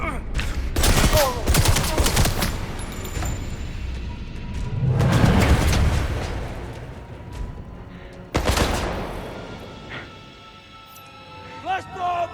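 Gunfire bursts in the video game 007, loud volleys and single shots spread across the stretch with a heavy blast near the middle, while shouted voices speak over the shooting.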